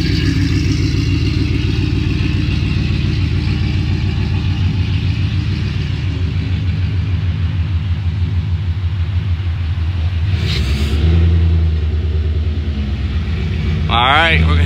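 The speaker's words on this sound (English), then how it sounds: "All right, we're gonna take a little test drive." A 2018 Ford Mustang GT with Baer drag brakes rumbles steadily close by with a deep engine drone, and a brief clatter and a short rising noise near the end.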